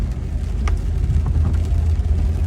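Car driving down Mulholland Drive in heavy rain during a record-setting storm: a steady low road rumble and engine drone with the hiss of tyres on wet pavement, close and continuous, with no one talking.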